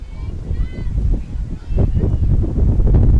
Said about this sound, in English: you can probably hear how windy it is